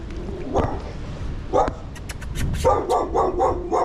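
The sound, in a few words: dog barking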